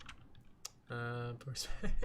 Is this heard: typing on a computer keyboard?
yes